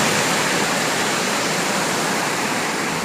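Kuthirai Paanjan falls at Panakudi roar without a break, a dense, close wash of falling water, loud and even throughout.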